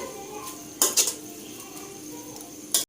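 A spoon scrapes and clinks against a cooking pan while masala okra is stirred with coriander, making a few close metallic knocks and a scrape among quiet kitchen background.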